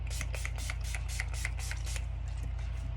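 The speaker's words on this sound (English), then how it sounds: "So I'm going to spray it one more time." Eight quick bursts of makeup setting spray hiss in a steady rhythm over a constant low hum, then fainter puffs trail off.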